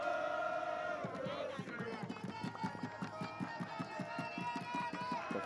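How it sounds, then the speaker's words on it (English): A French crowd cheers and chants at a roundnet world championship match, a loud rhythmic wall of voices with steady clapping beats, heard alone without commentary. "The French crowd doing whatever they can to will their team back into this fight"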